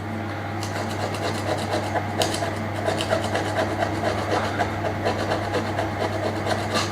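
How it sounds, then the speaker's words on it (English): A hand scraper works old grout or adhesive off a reclaimed marble slab, giving a steady close rasping and rubbing with short repeated strokes over a constant low hum, with no talking. "There's some old grout or adhesive or something stuck on it here, so I'm just using a scraper to get that off."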